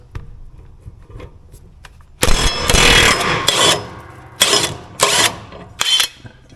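A power tool fitted with a 15/16 socket removes the blade from a Gravely mower deck, rattling loudly in a long burst followed by several shorter bursts, close by and with no talking.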